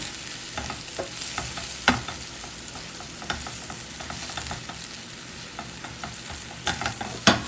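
Chopped vegetables sizzle in a hot pan while being stirred for a chili and jerk shrimp omelette, giving a steady frying hiss broken by scraping and occasional sharp clanks of the utensil, with no talk.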